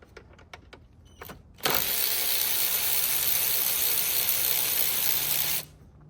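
Somewhere in a car's engine bay, a 13 mm ratchet loosens the nut on a battery terminal: a few sharp clicks first, then a steady, close whirring rattle of fast ratcheting that runs about four seconds before stopping.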